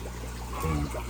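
Water trickles faintly from the overflow of a Periha PB 12000 pump, a soft, thin flow with a slight swell midway.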